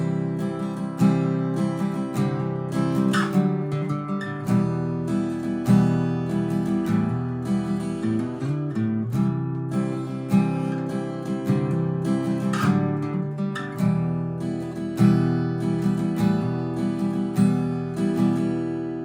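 Acoustic guitar picks out a song intro at regular speed, a steady fingerpicked pattern of ringing notes over low bass tones, close and clear for nearly twenty seconds with no voice.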